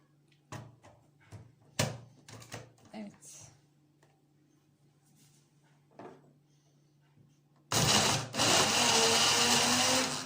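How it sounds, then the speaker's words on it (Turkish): Scattered clatters and knocks as the lid closes, then a loud blender motor kicks in abruptly and roars continuously through the final seconds, blending a soda-lemon drink. "Blender'dan geçireceğim."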